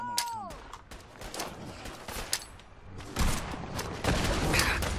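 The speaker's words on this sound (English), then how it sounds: "Oh, they're shooting at me." Enemy gunfire in Fallout 4, a string of sharp shots cracking in bursts, some close and some further off, over game ambience, with a voice talking over it.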